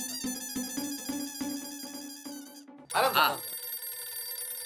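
A telephone rings with a bright repeated electronic tone in a steady pulsing pattern for a few seconds, then stops as a voice begins speaking nearby.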